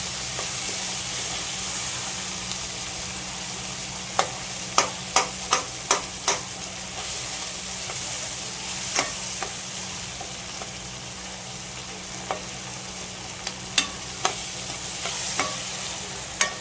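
Soya gravy sautés in a pan with a constant soft sizzle and hiss, punctuated by a run of crisp spoon scrapes and taps against the pan, some in quick succession, others spaced out.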